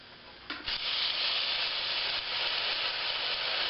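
Diced potato and green onion dropped into a hot skillet for a hobo breakfast, a soft thump followed by a steady, bright sizzle that carries on alone, moderately close.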